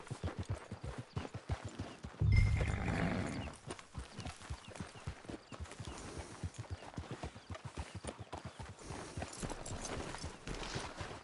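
Horse hooves clip-clop in a steady walking rhythm throughout the Red Dead Redemption 2 game scene, close and moderately loud, with a brief louder burst of noise early on.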